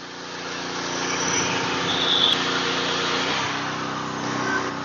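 A small PK160a welding generator's engine runs at a steady, even drone that stays fairly loud and close throughout, with no one talking.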